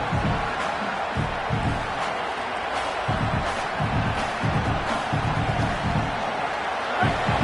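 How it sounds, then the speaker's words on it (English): Stadium crowd at a Michigan football game in a steady, full-throated roar that swells in rhythmic surges, with a commentator's voice faintly under it. "This crowd, full throat, splitting the eardrums and letting them know it's going to be a long day."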